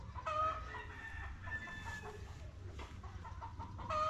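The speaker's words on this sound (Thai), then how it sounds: "นั่นไก่เจ้ามันฮ้องอย่างนั้นนะ" A rooster crows loudly and nearby at a rural Thai village festival, its drawn-out call repeating over a steady hum of background crowd and ambient noise.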